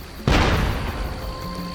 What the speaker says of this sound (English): The grenade explosions, they're amazing.